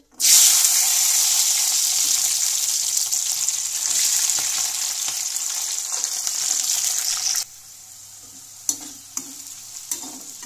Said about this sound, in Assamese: প্ৰথমতে এইখিনি ফ্ৰেঞ্চ বিনখিনি ভাজি লৈছো